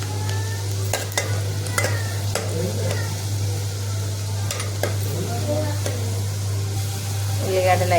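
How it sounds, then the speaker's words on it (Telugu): Onions and green chillies frying in hot oil as a tempering, a steady close sizzle with scattered stirring clatters and spoon scrapes throughout, no one speaking. "కొన్ని పచ్చిమిర్చి, ఉల్లిగడ్డ కోసి తాలింపుకై వేసిన"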